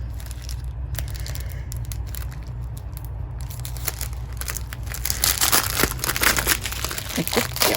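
Diamond painting supply packets being unwrapped and crinkled by hand, steady close crackling and crumpling of plastic that grows louder and busier toward the end, with no talk.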